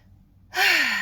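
A single long, forceful exhale through the mouth during a breathing exercise begins abruptly after a quiet pause and then trails off, close and clear with no talking.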